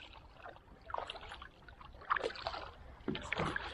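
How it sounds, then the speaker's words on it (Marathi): Kayak paddling on water at Tarkarli in Konkan, with soft splashing paddle strokes arriving every second or so, fairly quiet and close, with no talking. "आता आम्ही चाललोय परत एकदा कायकिंग करायला"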